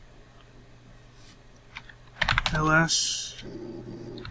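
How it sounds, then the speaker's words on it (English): Commands typed on a computer keyboard for a modded Minecraft server: a few sparse clicks, then a dense close burst of keystrokes, with a voice speaking briefly. "If you're wondering why I keep typing in..."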